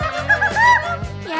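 Cartoon chickens give loud, close, shrill squawking cries in quick overlapping bursts, likely voiced by a performer imitating hens.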